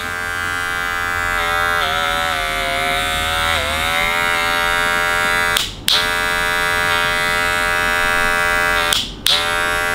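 A cordless gold Magic Clip hair clipper runs with a loud, steady electric buzz for ten seconds, broken twice by brief dips and clicks, with no talking.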